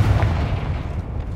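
A Confringo fire-blast spell explodes in the Hogwarts Legacy video game, a loud low booming burst that rumbles steadily through the whole short moment with no voices.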